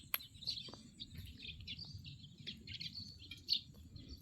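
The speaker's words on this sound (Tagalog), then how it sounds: "Daming mga ibon." Scattered bird chirps and tweets over a low, steady rumble near water at a high-water spot with water lilies, the calls short and irregular, some louder and closer, with no talking.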